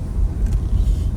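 A 1999 Porsche Boxster 986 with a 2.5L engine and tiptronic gearbox on the move, giving a low, steady interior rumble of engine and road noise, brief and unbroken.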